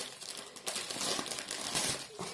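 Sheets of glitter heat-transfer paper are handled up close, giving a continuous crisp crinkling and rustling with bursts of louder crackle.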